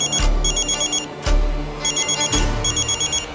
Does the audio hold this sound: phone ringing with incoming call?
yes